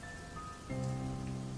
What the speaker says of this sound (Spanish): otra vez la lluvia leve como un murmullo